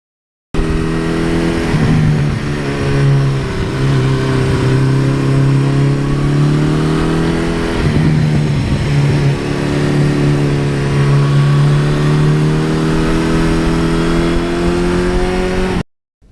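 A 1982 Suzuki GS1100E motorcycle engine runs close by, revving steadily with a strong low, even drone and several rises and dips in pitch, loud throughout with no talk.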